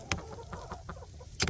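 Backyard homestead chickens near their nesting box and run, clucking softly in short, irregular calls, close by and fairly quiet, with a sharper squawk at the end.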